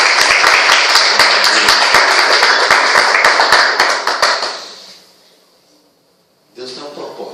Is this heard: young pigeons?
no